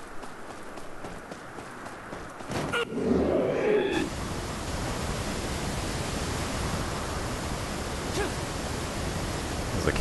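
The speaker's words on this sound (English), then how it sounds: "There's the castle's little waterfall here." A small castle waterfall in Devil May Cry 4 gives a steady, broad rushing hiss of falling water that holds evenly through the whole clip, with a brief burst of other game sound near the start.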